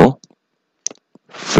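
A few soft, sparse computer mouse clicks while working through the View tab in a Microsoft Excel spreadsheet, separated by quiet gaps, with indistinct speech just before and after.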